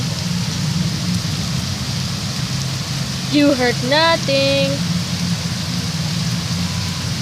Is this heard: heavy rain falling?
yes